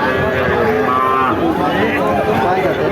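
Several cattle moo one after another at the Barobazar cattle market, the lowing calls overlapping with crowd noise and price haggling throughout.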